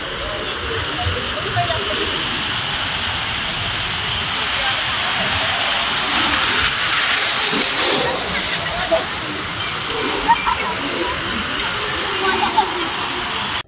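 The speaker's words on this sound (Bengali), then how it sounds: "ঢেউ এসে উঠে যাচ্ছে জল" Ocean waves break on Digha beach, a loud, close hiss of rushing surf that swells to a peak in the middle before subsiding, with a few sharper splashes near the end.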